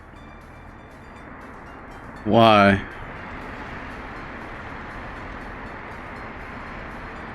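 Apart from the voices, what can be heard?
trains in video game Workers & Resources: Soviet Republic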